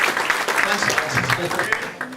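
Steady audience clapping for a group of riders at a fundraising gathering, close and fairly loud, with a voice talking over the applause.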